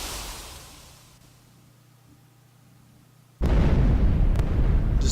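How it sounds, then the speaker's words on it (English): A huge explosion in Dracula's castle in Castlevania: Legacy of Darkness erupts suddenly after a quiet stretch, a loud sustained roaring blast that keeps rumbling to the end. "This explosion's huge."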